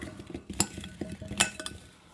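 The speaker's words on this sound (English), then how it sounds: "And give it a little stir." A utensil stirs cooked garden potatoes with a little Parmesan cheese in a dish, giving light scraping and soft clinks in an uneven rhythm, close and fairly quiet.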